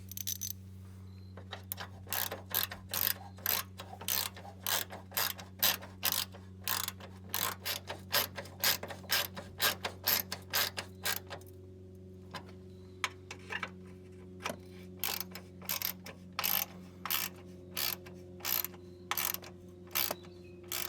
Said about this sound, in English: reinstall the nut on the front of the bracket and make sure they're both tightened down